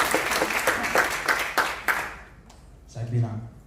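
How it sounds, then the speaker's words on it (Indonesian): Congregation at a Jakarta Family Blessing church service claps for Jesus, a lively, rhythmic round of applause with sharp periodic accents that fades out, followed by a voice speaking briefly near the end. "Tepuk tangan bagi Yesus."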